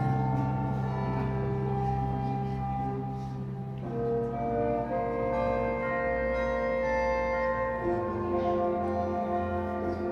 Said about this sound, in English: Inside the tower, the bells of the carillon ring out.